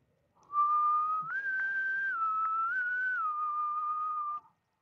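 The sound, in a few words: person whistling a melody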